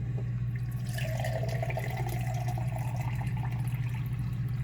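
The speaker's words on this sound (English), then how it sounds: "With the bleach, honestly, to be safer, I usually pour it into a separate container." Bleach for color photo developing poured into a separate 500 ml container, a steady liquid trickle running continuously over a low background hum.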